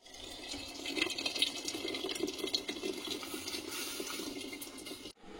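Hot water poured from a kettle into a pot of cooking rice, a steady close splashing trickle that runs continuously for several seconds before stopping.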